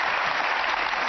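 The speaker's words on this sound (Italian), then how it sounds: "Se riuscite a applaudire." Studio audience applause on an Italian TV talk show, a dense steady burst of clapping, brief and fairly loud, with no talk over it.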